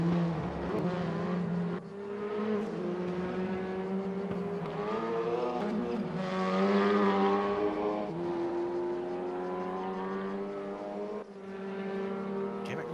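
Race car engines roar in the RaceRoom racing video game at the Aragon circuit, revving up and down through gear changes in a continuous loud drone with shifting pitch.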